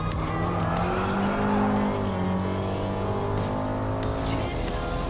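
Alpine A110 race cars in Gran Turismo Sport gameplay, with a loud continuous engine drone rising in pitch and brief tire squeal, steady and close throughout.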